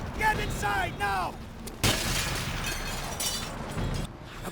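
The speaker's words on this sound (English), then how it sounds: "The patrols will surely have heard those shots." A single sharp gunshot cracks out in a Call of Duty game, loud and close, followed by lingering noisy reverberation, with a voice speaking before it and ambient game noise continuing.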